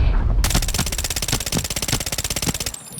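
Automatic gunfire in the video game Arena Breakout: a loud, rapid stream of about two dozen evenly spaced shots rattles for over two seconds, then stops.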